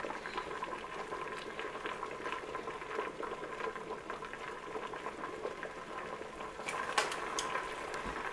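Poke sallet greens at a steady rolling boil in a pot, a constant bubbling and gurgling with soft popping, close and moderately quiet, no voices.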